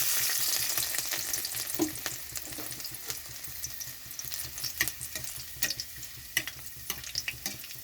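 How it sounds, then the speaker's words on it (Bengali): Garlic and dried red chillies frying in hot mustard oil in a wok make a steady sizzle with scattered sharp crackles and spits that gradually grow sparser. "রসুনটা একটু ভাজা হয়ে গেছে,"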